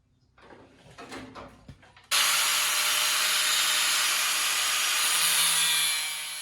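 A power cutting tool bites into a metal patch for a 6x6 Land Cruiser widebody; after a couple of seconds of quieter handling it starts abruptly into a loud, sustained, close-up whine that holds steady until the end.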